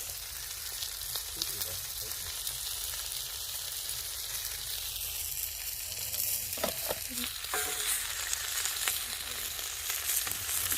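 A whole red pomfret fish frying on a tawa outdoors in a village kitchen, a steady broad hiss of oil throughout with a few scraping clinks from a spatula in the second half.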